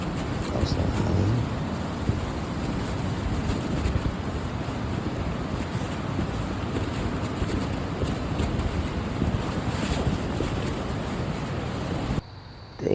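Strong, steady seaside wind roars across the microphone with a broad rumbling wash like surf nearby, continuous and loud, cutting off sharply near the end.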